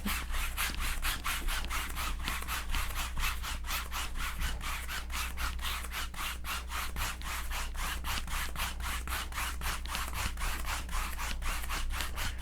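An oil paint brush loaded with phthalo blue is scrubbed hard to clean it out, giving a steady, fast back-and-forth rubbing rhythm, close and continuous with no pauses.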